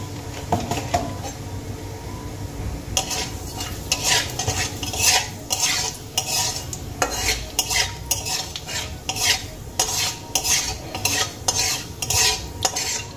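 Black cumin seeds fry in hot mustard oil and are stirred briskly. Rhythmic metal scraping and clinking from the utensil sit over a continuous crackling sizzle, close and steady, with no voices.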